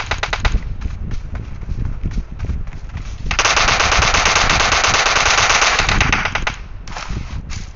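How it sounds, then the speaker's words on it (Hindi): Rapid bursts of gunfire from a video game shotgun fight, loud and near, with one sustained dense stretch of firing in the middle and choppier shots before and after. "बगल में शॉर्ट गन से मार रहा है शॉर्ट गन से मार इसे जल्दी जाएगा"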